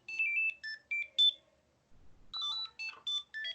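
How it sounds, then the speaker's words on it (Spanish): A phone in a classroom rings in two bursts of bright, rapid electronic beeping melody, heard alone with a short gap between them. "Siempre me suena el teléfono en clase."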